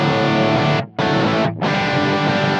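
Electric guitar played through an overdrive preamp on a multi-effects pedalboard with reverb and delay switched off, giving sustained, saturated distorted chords broken by two brief gaps.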